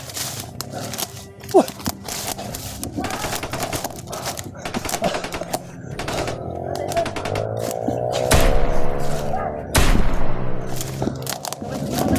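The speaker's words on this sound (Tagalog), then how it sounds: "Nakarinig na putok." Gunshots ring out in an armed standoff, with sharp irregular cracks and bursts of gunfire scattered through the scene, some loud and close, under hushed voices talking nearby.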